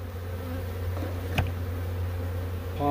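Honey bees buzzing during a hive cutout in Pomfret, Connecticut, a steady close hum of many insects with a brief louder buzz as one passes near, no voices.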